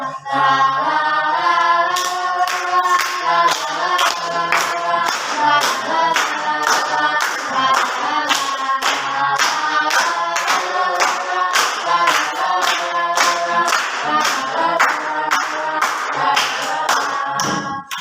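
A classroom group claps in steady unison, sharp rhythmic beats repeating fast and loud over what sounds like music or chanting voices throughout.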